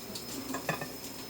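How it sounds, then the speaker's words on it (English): A spatula scrapes around a mixing bowl of cheese muffin batter, soft rhythmic scrapes and light taps of the utensil against the bowl, close and fairly quiet. "to scrape this bowl"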